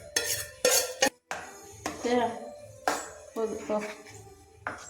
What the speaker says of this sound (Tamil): ஃபுல்லாக கலக்கி விட்டுறேன்